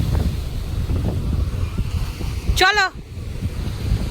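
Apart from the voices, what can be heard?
rough sea waves and wind at Digha beach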